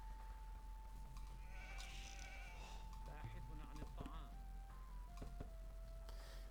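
Sheep bleating in the Age of Empires strategy game, short game-style bleats sounding among interface tones and background game sounds while someone talks over them.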